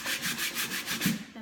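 Sandpaper rubbed by hand over a wooden surface, a loud close scratchy rasp in quick steady back-and-forth strokes, about seven passes with no voices.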